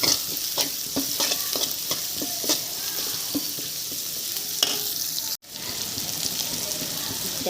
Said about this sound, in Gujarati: હવે આની અંદર હું કાંદા એડ કરી રહી છું અને કાંદાને પણ હું સરસ જેવું સતરાઈ જાય એવું થવા દઈશ